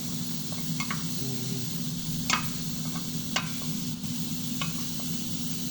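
Onions fry in a pan for a homemade burger, a low steady sizzle with a faint hum beneath it and sparse clicks and taps of a utensil against the pan.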